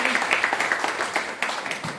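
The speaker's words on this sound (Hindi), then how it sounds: "Very good, Bharti madam, Devendra sir, जोरदार तालियां।" Enthusiastic applause from a gathered audience at a community meeting, a dense patter of many hands clapping close by, with a voice briefly heard through it.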